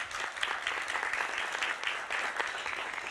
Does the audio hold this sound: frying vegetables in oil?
no